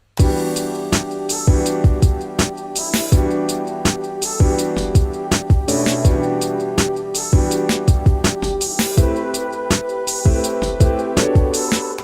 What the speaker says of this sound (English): the entire beat again sounds like this.